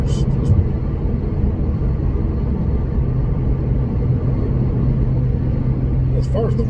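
A 2014 Nissan GT-R in R mode climbs an exit ramp, heard from inside the cabin as a steady, loud low engine and road rumble that holds level throughout.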